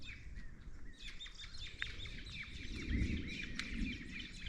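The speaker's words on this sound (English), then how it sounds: "Oh, and the birds started singing as well." Several birds sing and chirp in the snowy high Andes of Ecuador near Cotopaxi volcano, with dense overlapping calls across the clip over a low rumble of wind or handling noise.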